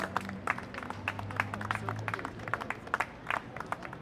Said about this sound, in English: Please, clap for the bus drivers.